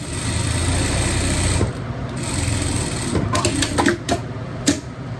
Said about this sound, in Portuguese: Vamos passar a costura aqui.